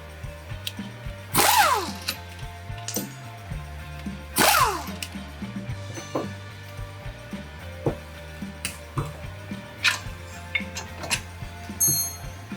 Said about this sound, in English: Next we will be removing the 22mm nuts and bolts. We need a 22mm wrench to hold this side.